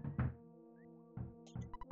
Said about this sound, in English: Someone's knocking at the door. What an annoying knock.